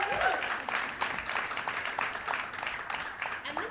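Crowd applause at the Calgary Innovation Week 2025 kick-off event: continuous, moderately loud clapping that washes through the room without letting up across the few seconds.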